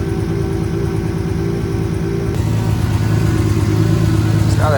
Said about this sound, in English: So now the SC is misfiring.